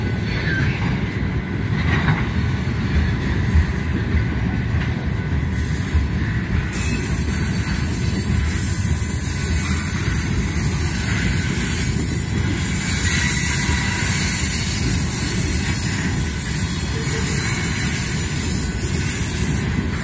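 A Conrail freight train hauling hopper cars rolls past close by, a continuous loud rumble of wheels and rail noise with hiss and faint squealing, steady for the whole stretch.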